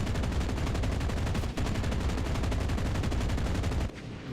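Aircraft machine gun in the Enlisted video game firing in one long, rapid, evenly spaced burst, loud and continuous, stopping abruptly near the end and leaving quieter engine drone.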